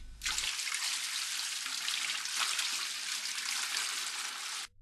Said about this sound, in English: Drain and clean the recovery tank.